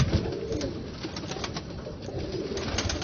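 Pure Ali breed pigeons coo softly in a Lahore loft, several birds overlapping in low, rolling burbles close by, with no talk over them.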